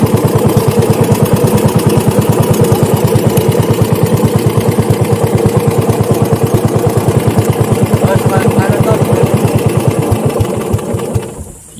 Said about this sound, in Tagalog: Pinatay na ang ating makina.